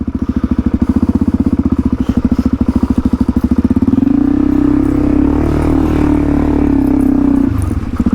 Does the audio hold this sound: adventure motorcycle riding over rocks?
yes